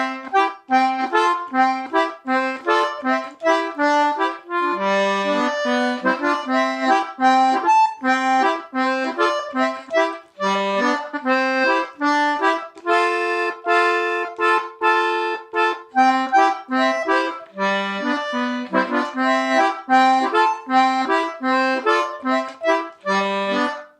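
A 10-button Anglo concertina plays a lively tune with right and left hands together, a bright reedy melody over bouncing lower chords, continuous and close with no talking.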